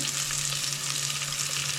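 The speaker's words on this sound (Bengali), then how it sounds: "পেঁয়াজটা হালকা ভাজা হলে" Onions fry lightly in a little oil with an even, hissing sizzle, close by and unbroken for a short stretch. No voices are heard.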